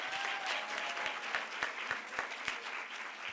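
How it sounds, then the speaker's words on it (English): An audience at a Women in Media and Communications event applauds Dr. Mshatoni, steady moderate clapping with a few sharper individual claps standing out near the microphone. "A big round of applause for Dr."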